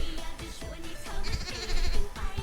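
A sheep mount in the fantasy mobile MMO LUNA Mobile gives a few close, wavering bleats over busy game music and effects.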